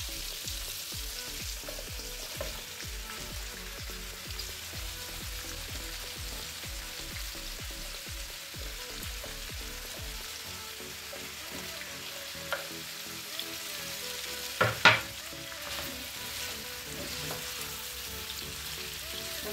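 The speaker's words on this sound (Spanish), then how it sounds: "Ahora vamos a agregar la cebolla y los otros chiles." Onion and chiles fry in a pan for jalapeños en escabeche with a soft, steady crackling sizzle throughout, joined near the end by a few brief utensil taps.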